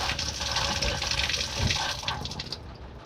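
City-pressure water runs and splashes inside a 2022 Forest River Wolf Pup 16BHS camper, a steady close gushing that trails off near the end.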